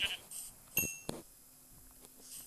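A sheep bleats faintly in the block-building game Minecraft, with a couple of short, distant calls and a soft clink over quiet background.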